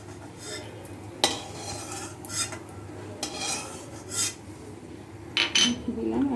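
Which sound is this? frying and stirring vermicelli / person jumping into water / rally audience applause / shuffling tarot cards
frying and stirring vermicelli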